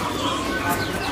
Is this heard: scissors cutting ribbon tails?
no